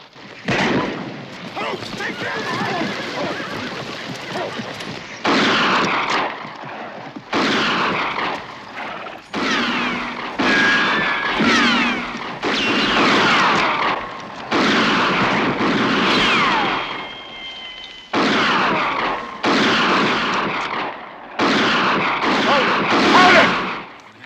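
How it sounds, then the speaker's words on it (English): Gunfire effects in a Western audio drama: repeated volleys of shots and blasts in bursts of a few seconds each, separated by brief gaps, loud and close, alongside talk and a music bed. "Jack, you fire and cover for me."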